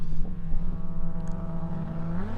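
A Mustang and a Barra-powered XE Falcon drag racing side by side: loud sustained engine drone with strong harmonic tones, pitch gradually rising as both cars accelerate hard down the strip.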